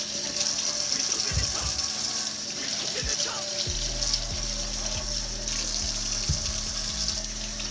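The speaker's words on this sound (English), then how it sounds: "now I'm going to go ahead and wash off these peppers" Kitchen tap running into a sink as peppers are rinsed under it, a steady close splashing flow with a few clunks and handling knocks, a low hum in the background.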